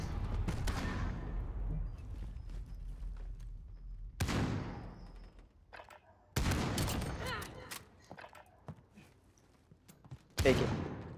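Sniper rifle shots in Call of Duty Modern Warfare during a sniper match: several loud, sharp blasts with decaying echoes, spaced a few seconds apart, separated by quieter game ambience.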